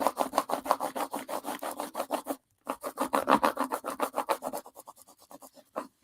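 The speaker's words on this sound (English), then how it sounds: "so you see, you can do a rubbing." Rhythmic scratchy strokes of a crayon or pencil rubbed over paper laid on a patterned plate, fast and close, with a brief pause midway before the back-and-forth rubbing resumes and gradually softens.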